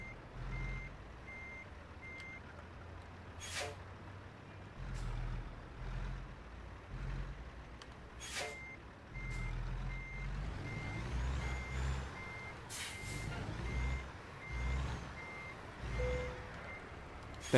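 Truck reversing beeps sound as a trailer is backed into a parking spot in American Truck Simulator, repeated regular beeps over a low engine rumble with occasional sharper bursts, no talk.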